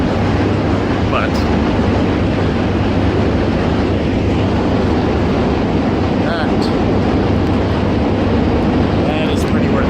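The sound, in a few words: subway train riding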